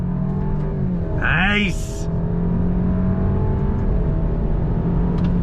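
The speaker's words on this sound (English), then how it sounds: "I do like the power delivery from the 2-liter inline-4 turbocharged engine" A 2022 Alfa Romeo Giulia's 2-liter turbocharged inline-4 accelerating hard with a rising, steady engine drone from inside the cabin, a brief rev climb standing out near the start and a short spoken remark over it.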